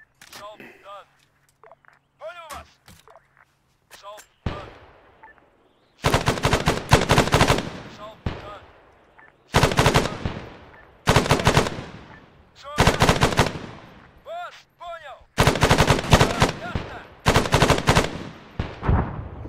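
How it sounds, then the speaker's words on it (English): Gunfire and artillery in a military video game during a counter attack at Kavala, with bursts of rapid machine-gun fire and single shots in repeated volleys, loud and close, alongside people talking. "I've already got artillery coming in on it."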